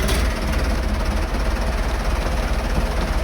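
A John Deere 5403 tractor in Farming Simulator 22 running after start-up, a steady low diesel rumble and idle drone, loud and close, heard alone without voices.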